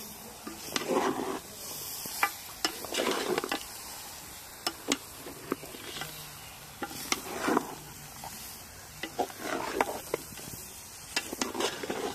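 Mutton curry being stirred in a pot over a wood-fired stove, with repeated scraping strokes and soft sizzling close by, spoon knocks scattered through the mix, no voices.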